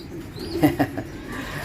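Racing pigeons cooing at close range, a couple of low, throaty coos rising out of a quiet background with faint chirps, short and distinct with no speech.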